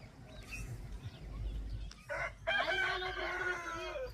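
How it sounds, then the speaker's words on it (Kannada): Roosters crow loudly and close by in a village, one long drawn-out call after a shorter one, over a low rumble of outdoor noise. "ಕೋಳಿಗಳು ಕೂಗ್ಲಾಕತ್ತಾವ"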